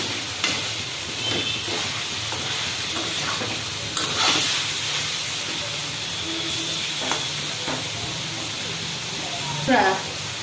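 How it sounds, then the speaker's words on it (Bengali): Banana stem, papaya and potato stir-fried together in a pan without added water, with steady close sizzling and scraping stirs throughout, under occasional talk. "এবারে এটা ভালো করে কষাতে থাকবো লাল লাল হয়ে যাবে আর জল টল কিছুই লাগবে না"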